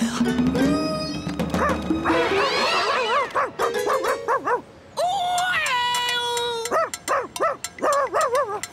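A dog barks, yips and whines close by, loud and expressive, with a drawn-out rising cry followed by choppy bursts of barking.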